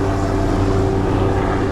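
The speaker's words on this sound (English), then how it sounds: "you see that helicopter?" A helicopter flies over Kalapaki Beach on Kauai, its steady engine and rotor drone loud and continuous throughout with no talking.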